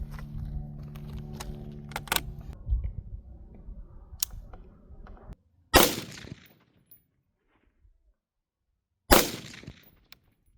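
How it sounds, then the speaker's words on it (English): A rifle fires green tip rounds from a 30-round magazine converted to 15 rounds at an outdoor range: two sharp, loud cracks a few seconds apart, following a stretch of clicks and metallic handling noise. "We're also shooting green tips."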